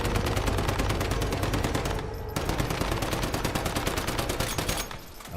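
A machine gun in a video game fires in long, rapid, loud bursts, with one brief break before the shooting resumes and then tapers off at the end.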